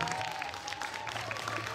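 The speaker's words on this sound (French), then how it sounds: "Applaudissements pour Richard Darbois, messieurs, dames" An audience at a convention conference applauds, a steady crowd of many hands clapping in a room, with a faint tone running underneath throughout the short burst.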